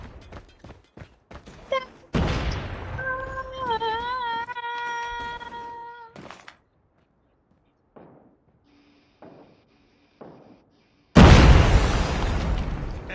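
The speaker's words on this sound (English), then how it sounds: "Bomb acquired. Bomb drop." A bomb explosion in a video game, with a loud booming blast near the end that follows earlier thuds, a musical alert tone and quiet gaps.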